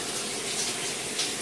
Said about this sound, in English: I'm about to take a shower